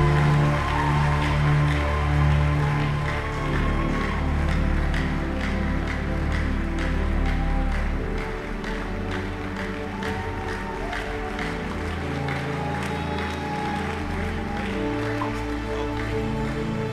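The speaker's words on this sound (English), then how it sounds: "Give Jesus a big hand clap." A church congregation claps along steadily throughout the dedication of a sanctuary, with dense rhythmic hand claps over music and voices filling the hall.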